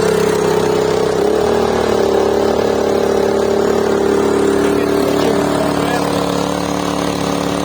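A Daewoo DAIG 3000 S inverter generator runs steadily in maximum mode under load, a constant close engine drone with a strong tonal hum throughout.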